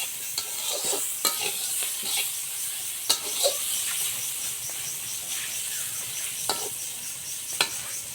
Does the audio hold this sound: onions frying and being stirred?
yes